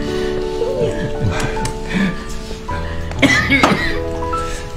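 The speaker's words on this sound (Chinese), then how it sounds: "您怎么咳嗽这么厉害啊？" Elderly man coughing hard several times in an indoor family scene, rough bursts with throat clearing, close and moderately loud, with faint background sound between.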